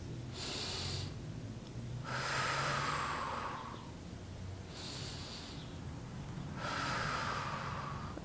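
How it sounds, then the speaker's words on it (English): Slow, deep diaphragmatic breathing, two full inhale-exhale cycles heard close and alone, each breath a soft rushing airflow lasting a couple of seconds. "just back off the depth of how much you breathe and how much you are breathing, inhale and exhale"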